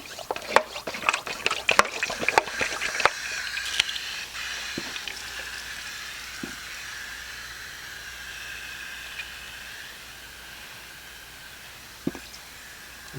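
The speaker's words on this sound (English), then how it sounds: "Then I'm going to add some more water." Water is added to a worm compost bin of leaves and worm castings, starting with a burst of splashing, pouring and dripping that settles into a quieter, fading trickle and hiss, with a few later drips.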